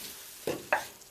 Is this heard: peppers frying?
yes